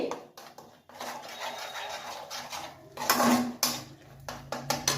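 Cauliflower korma stirred in a pan with a spoon, giving irregular scraping and clinking strokes against the metal, close and moderately loud, with a louder cluster of scrapes near the end.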